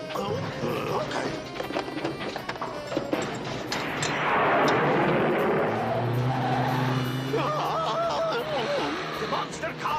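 Cartoon monster cars racing in a tightly packed pack, revving engines and squealing, skidding tires, with a swelling roar in the middle, mixed under animated voices and sound effects.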